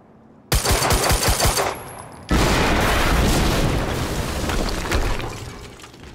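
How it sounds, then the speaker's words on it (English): Gunfire and a heavy explosion in the video game Quantum Break: a rapid burst of loud close shots, a brief lull, then a sudden massive blast whose roaring rumble sustains and slowly fades, no talk. "HQ, we just heard an explosion near the harvesting perimeter."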